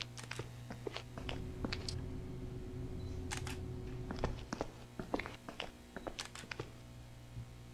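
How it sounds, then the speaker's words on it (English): Camera shutter clicks in the horror game Dark Fracture, sharp irregular snaps repeating alone over a low steady hum, some in quick pairs and bursts, moderately close. "Keep hearing a camera shutter clicking away, but where's it coming from?"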